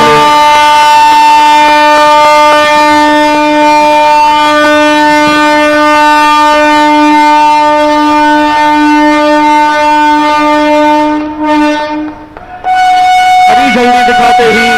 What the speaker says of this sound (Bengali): झंडी दिखाते ही वंदे भारत टाटानगर पटना अपने प्रथम यात्रा पर रवाना